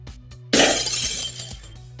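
A glass-breaking sound effect: one sudden bright shatter followed by a tinkling spray of fragments that fades out over a low steady hum.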